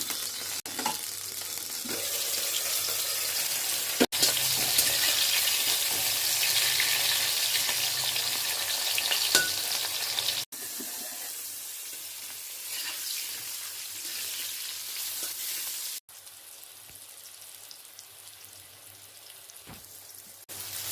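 Lentil fritters fry in oil with a loud, dense crackling sizzle that drops to a quieter bubbling in two steps as the pan is handled, with no voices.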